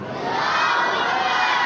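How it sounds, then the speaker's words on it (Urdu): A large crowd at a Qadri religious gathering for a child's Ameen ceremony roars a chanted slogan in unison, a loud, sustained shout rising after a brief start. "آپ کا استقبال نعرے سے کیجیے، نعرے تکبیر"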